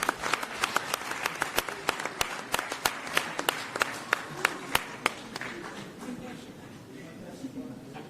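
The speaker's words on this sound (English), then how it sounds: "Let's give them a round of applause." A round of applause at an EU–South Africa leaders' event on green hydrogen and minerals, brisk regular claps from a modest group, close and steady at first, then thinning and fading toward the end.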